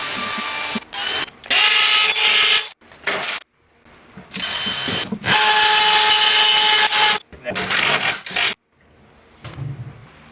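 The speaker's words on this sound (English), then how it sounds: "Got the pocket holes drilled" A power drill whines in several loud bursts separated by short silences while drilling pocket holes in a garage cabinet.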